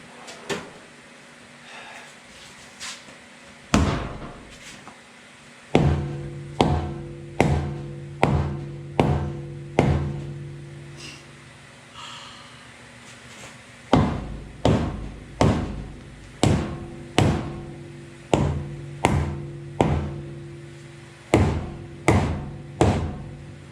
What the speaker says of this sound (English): I guess it's rubber hammer time.